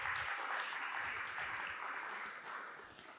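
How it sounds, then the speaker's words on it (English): An audience at an HR and hiring trends evening event gives a faint, steady round of applause that slowly tapers off. "So please give yourselves a massive hand of applause for being here tonight."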